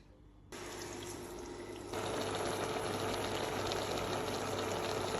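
Water pours steadily into a pan of pineapple pachadi with salt, turmeric, curry leaves, ginger and green chilli, a continuous close rushing stream that grows louder partway through and runs without any voice.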